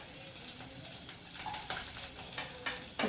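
Curry leaves crackling in hot oil during a tempering, stirred briskly in the pan, with sharp close sizzle and a few quick scraping strokes over about three seconds.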